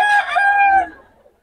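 A rooster crows once, loud and close, at a market selling chickens, a single drawn-out call that fades away after about a second.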